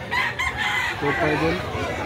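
Gamefowl roosters crowing and clucking in Cebu, a few sharp calls at the start followed by a longer crow in the middle, set within a busy flock chorus with faint background voices.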